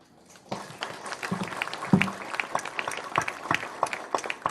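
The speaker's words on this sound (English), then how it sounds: "May you now join me in giving a round of applause to the UZIMA team" A crowd at a graduation ceremony claps together in lively applause, many hands striking in a dense, uneven patter that holds steady throughout.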